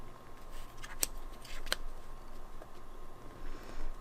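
Scissors snip through paint-pot planks along a guide, two sharp, close cuts standing out against a quiet, faintly hissing room.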